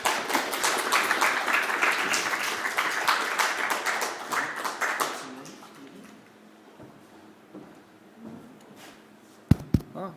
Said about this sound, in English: Please give a round of applause to Professor Manow.